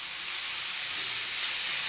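Mint and coriander leaves sautéing in a pan for mint chutney, giving an even, continuous steam-like hiss, close and unbroken for the short stretch.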